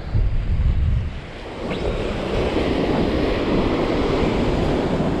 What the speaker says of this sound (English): it's getting windier and windier, and it's in my face